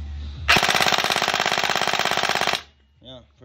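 The original factory-built motor of a gel blaster fires a rapid, even burst of shots lasting about two seconds, loud and close, then a brief voice follows.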